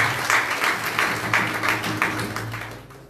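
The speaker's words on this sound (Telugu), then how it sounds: "గట్టిగా చప్పట్లు కొట్టి" A church congregation at Sunday worship claps together in a steady rhythmic beat, several sharp unison claps spaced evenly that gradually fade away toward the end.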